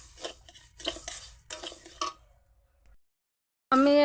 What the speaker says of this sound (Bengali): নেড়ে চেড়েটাকে ভেজে নেব।